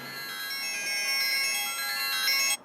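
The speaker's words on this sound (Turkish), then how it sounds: "Farklı zil tipleri var." A bright electronic ringtone melody from a Juo Sports smartwatch plays steadily and alone, thin and tinny, then cuts off abruptly near the end.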